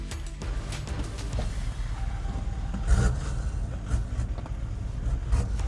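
A 2021 Toyota Land Cruiser 79 with a 4.5-litre V8 diesel is being driven, its engine giving a steady, close rumble with slight swells and a couple of brief revving surges.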